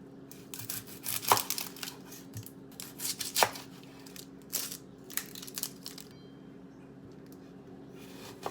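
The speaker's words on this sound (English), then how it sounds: "we're just gonna chop up the one onion super finely" A knife finely chops an onion on a board, with close, sharp, irregular strikes arriving in quick bursts and brief pauses in a quiet kitchen.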